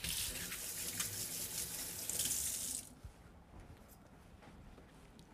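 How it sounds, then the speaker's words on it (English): A kitchen tap gushes as hands are rinsed under it for about three seconds, then the water shuts off, leaving quiet room tone. "Let me just rinse my hands off."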